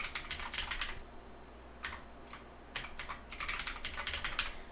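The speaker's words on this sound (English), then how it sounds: "what I'm gonna do is I'm gonna go ahead and put my fancy password" A password is typed on a computer keyboard in quick bursts of soft key clicks, separated by short pauses, fairly quiet and close with no talking.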